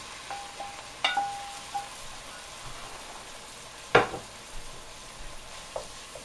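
Ground meat browning in a pan with celery and onions for chili, a faint background sizzle punctuated by a few sharp scraping clatters of stirring, close and sparse, no talking.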